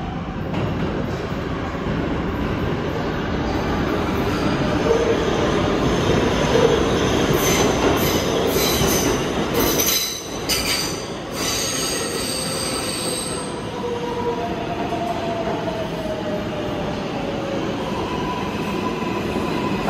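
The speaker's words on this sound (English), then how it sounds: "There is a 5 train to Flatbush Avenue, Brooklyn College. Approaching the station," An R142 subway train on the 5 line pulls into Borough Hall station with a loud, sustained roar of wheels on rail and long high-pitched wheel squeals, steady and close throughout with no talk.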